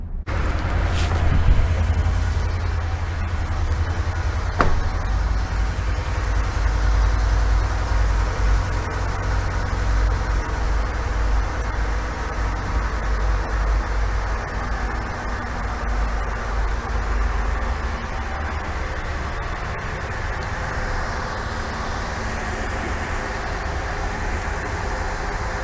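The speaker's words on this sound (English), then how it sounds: "The vehicle has been started, and if you take a look at the gauge readings, you can tell that the AC is on." A car engine runs steadily with the A/C switched on during a check of the A/C system, a loud continuous low idle hum and blower drone holding evenly throughout, with a faint click early on.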